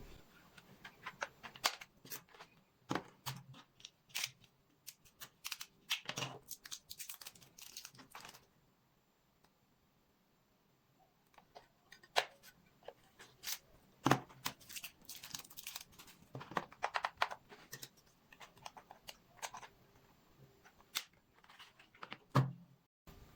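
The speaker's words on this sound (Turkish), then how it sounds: "Hemen pillerini takalım ve deneyelim." Batteries are fitted into an HP 350 Compact Multi-Device Bluetooth keyboard, producing scattered close plastic clicks, snaps and handling rustles in irregular bursts, with a quiet pause partway through.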